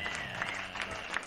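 Audience applause for a performer at a live music show, a dense steady patter of many hands clapping across the whole moment, moderately loud and continuous.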